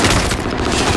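Dense gunfire from a battle royale video game, a continuous roar of overlapping shots and blasts filling the whole moment, loud and close with no clear gaps.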